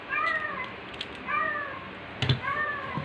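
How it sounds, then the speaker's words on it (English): A stray cat meows outdoors, three drawn-out wavering cries with brief pauses between them, moderately close and heard alone without talk. "Cats are getting wild outside."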